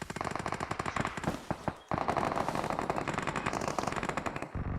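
Rapid machine gun fire in a video game, loud dense bursts of shots that break off for a brief moment and then roar back continuously until a final cutoff.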